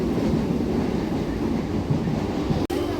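A train rumbles steadily along the rails, a loud continuous rolling drone with a brief sharp click near the end.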